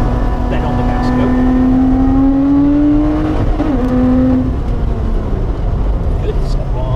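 A Lotus sports car accelerating hard on a track, the engine note climbing loudly through the revs, easing briefly, then pulling again, with someone talking over it.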